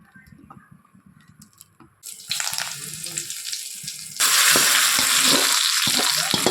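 Grated coconut stirred into cooked pumpkin and beans in a pot, with loud, dense sizzling and scraping that swells sharply in two steps, over faint background sounds at first.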